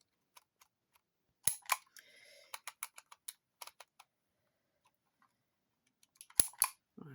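A Dymo label maker pressed firmly to emboss tape gives sharp, close mechanical clicks and clacks in short clusters, separated by near silence, with a brief rasping sound midway.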